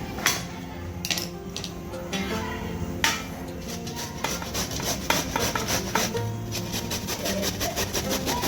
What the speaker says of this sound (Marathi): साल काढून किसून घ्यायचा आपल्याला